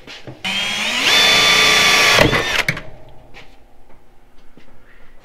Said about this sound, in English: I'm gonna hurry and drill this one before it starts.